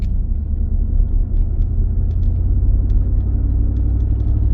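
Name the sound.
Chevy Silverado truck engine accelerating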